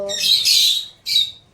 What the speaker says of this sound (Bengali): পাখিদের ডাকটা বেড়ে গেছে